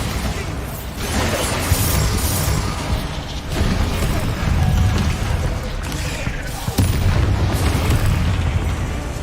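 The Bombarda spell exploding in Hogwarts Legacy, with heavy booming blasts over constant loud combat noise and a sharp crack partway through, with some voice underneath.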